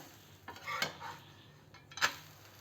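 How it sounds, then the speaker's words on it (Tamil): A peanut dosa is flipped in a pan, with a few scraping, clinking spatula strokes against the metal surface over a faint background, two sharper hits standing out, quiet and close with no voices. "நம்ம தோசை அப்படியே திருப்பி போட்டுக்கலாங்க"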